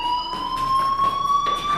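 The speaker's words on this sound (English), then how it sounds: "Hey, do you hear that fire alarm?" A steady electronic fire alarm tone in the video game Life Is Strange, a loud sustained pitch with a faint pulsing edge, sounding alone without talk.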